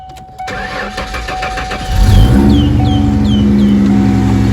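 A car left sitting for a week cranks after its battery is revived, with clicks and a brief whir, then catches and settles into a steady close idle with a faint chirp above it.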